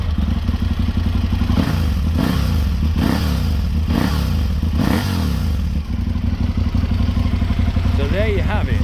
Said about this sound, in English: So I'll just get it fired up so you can hear this mighty V-twin.